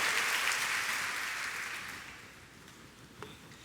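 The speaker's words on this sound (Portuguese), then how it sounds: "pode dar uma salva de palmas ao Senhor" Applause from a church crowd, fairly steady at first and then tapering off, fading toward quiet by the end.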